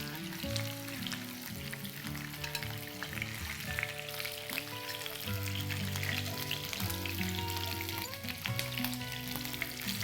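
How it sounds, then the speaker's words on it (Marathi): Rohu fish frying in a pan, giving a steady, continuous sizzle that runs the full length beneath a tonal music bed, with no talking. "दुसऱ्या बाजूनेही मासे चांगले फ्राय झाले"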